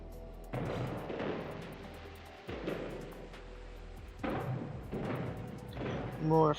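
Fireworks in the video game No Man's Sky go off as a series of dull booming bursts, several in a row with short gaps, fairly soft in the mix.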